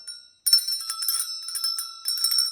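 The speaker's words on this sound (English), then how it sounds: "There's your candle holders made out of brass, but they're also bells." Brass candle holders that double as bells ring out with bright, sustained metallic tones, struck repeatedly in a quick jangling cluster after a short pause, close and clear with no talking.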